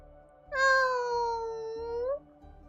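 A cat in the Honkai: Star Rail video game lets out one drawn-out, clear meow with rich harmonics, loud and close over a low game soundtrack, with a brief pause before the background continues.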